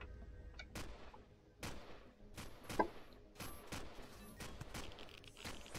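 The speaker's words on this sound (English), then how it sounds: "What are we shooting at?" Gunfire in the space survival game Empyrion: Galactic Survival, with repeated sharp shots and bursts crackling in an irregular barrage over several seconds, some rounds close and loud, others distant.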